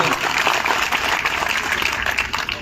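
Crowd applause at a sit-in protest at Bhattu tehsil, a steady, dense wash of many hands clapping close by and loud, holding evenly for the whole stretch.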